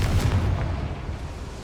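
A Confringo fire spell bursts in Hogwarts Legacy, a deep heavy boom with a rumbling blast that decays over a second and a half, loud and close.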